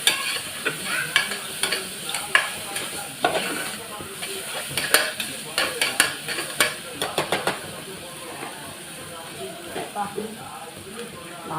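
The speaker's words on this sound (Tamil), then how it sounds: "இப்போ நான் இதையும் தேங்காய், புதினா அதையே வதக்கிக்கிறேன்" Coconut and mint being sautéed in a pan, with a steady sizzle broken by repeated scraping stirs and light clinks of a utensil against the pan.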